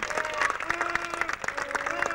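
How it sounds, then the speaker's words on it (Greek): Parents and spectators applaud at a youth academy football final between Foivos Varis and Achilleas Kato Achaia, with steady clapping and crowd noise. A voice talks over it and whistles or horns sound throughout. "Χειροκροτούν τους γονείς τους"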